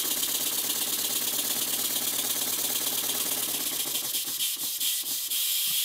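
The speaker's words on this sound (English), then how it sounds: "This is at about 60 pounds per square inch and the engine is running, but not very well." Stuart model steam engine run on compressed air at about 60 psi, running poorly: a steady, close, rapid mechanical clatter with hissing air throughout, turning into uneven, separated chuffs near the end.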